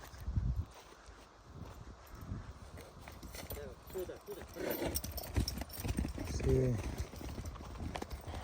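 Working mares' hooves clip-clop on a hard surface in an uneven walking rhythm, close by, with voices talking intermittently over the steps.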